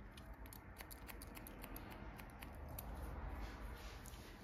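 Scissors snip hair during a pixie haircut on an older woman, a quick series of faint, close, crisp cuts in irregular clusters over a low steady background.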